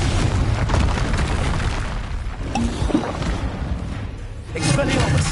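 Spell explosions from the Confringo curse in the Hogwarts Legacy video game on PS5, a dense run of loud booming blasts and crackling bursts, with a fresh heavy blast near the end amid continuous game combat noise.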